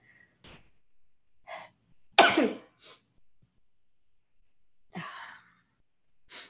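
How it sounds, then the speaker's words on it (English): A single forceful sneeze bursts out between quiet breaths and small vocal sounds, close to the listener. "I have to sneeze, hold on."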